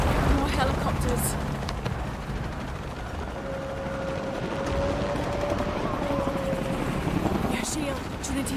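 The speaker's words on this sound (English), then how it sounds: "More helicopters." Helicopters in the video game Shadow of the Tomb Raider: a dense, continuous rotor and engine roar fills the whole stretch, with a faint rising whine midway and speech over it.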